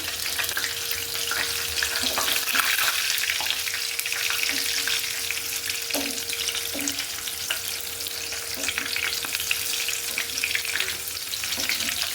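Small kachki fish sizzle steadily in a pan of oil over low heat, a continuous close frying hiss with occasional soft stirring clinks and pops throughout.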